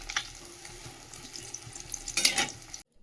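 Food frying in hot oil in a pan in a home kitchen makes a steady, close sizzle with stirring. A louder crackling burst comes near the end before the sound cuts to silence.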